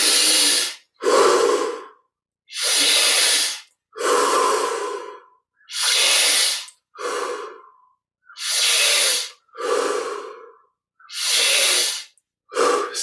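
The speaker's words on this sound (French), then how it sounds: "Pour les 10 dernières respirations, un petit peu plus d'amplitude," Deep rhythmic yogic breathing from a Kriya Yoga exercise, with about nine full, forceful breath cycles close to the listener, each a long airy inhale or exhale separated by short pauses, growing in amplitude.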